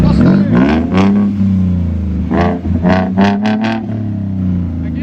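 A 2016 Ford Mustang 3.7L V6 with muffler-deleted dual exhaust idles with a low rumble, then is blipped in several sharp rising revs close by, with a loud burst near the start and a cluster of quick revs later.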